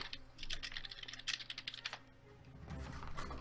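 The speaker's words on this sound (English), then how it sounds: "I don't like all this typing." Fast, soft clicking of a computer keyboard during an online game of Town of Salem, with dense irregular keystrokes, a brief pause, then more typing, close and alone without talk.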